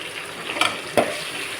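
Chopped green chillies and curry leaves drop into hot oil for lemon rice, giving two sharp spattering bursts over a steady soft sizzle, close and without talk.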